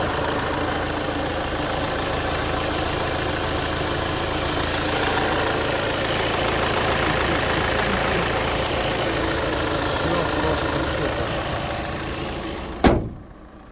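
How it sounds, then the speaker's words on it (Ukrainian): A 2019 Volkswagen Crafter van's engine idles in a steady, even mid-pitched drone for a long stretch, ending with a brief sharp clunk near the end. "двигунчик працює ідеально."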